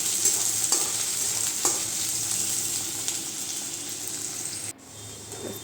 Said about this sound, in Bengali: এবার পেঁয়াজগুলোকে খুব সুন্দর করে আমি ভাজা করে নিচ্ছি।